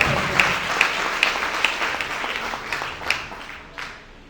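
An audience at a state-level cultural programme held by a charitable trust breaks into applause, loud dense clapping with sharp individual claps standing out, gradually thinning and fading.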